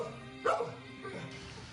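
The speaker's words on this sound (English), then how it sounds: "Max Blodgett's Pine Bluff house doubles as a stage for his singing pups." Pet dogs give a brief sharp bark followed by softer yelping, howl-like sounds at moderate distance, fairly quiet against a low background.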